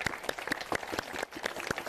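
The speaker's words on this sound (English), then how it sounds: "Give them a clap." A room of people at a house auction breaks into applause for the winning bidder, a dense burst of sharp, close claps that continues briefly and evenly.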